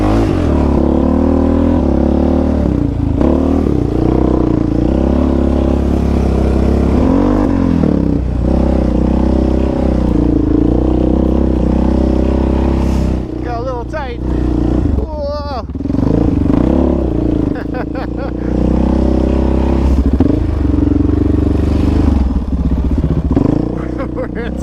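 A dirt bike rides tight off-road trails at Lakeview OHV Park, its engine droning loudly and rising and falling in pitch as the throttle changes, with rough clatter and wind noise and a speaking voice over it.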